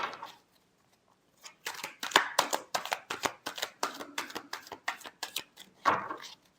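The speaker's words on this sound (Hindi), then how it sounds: "Last shuffle." A deck of tarot cards is shuffled in a quick run of crisp riffling slaps and flicks, close and fairly quiet, with no talking.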